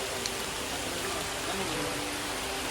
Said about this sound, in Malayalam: അങ്ങനെ ലാസ്റ്റ് നല്ല മഴ പെയ്തിരിക്കുകയാണ്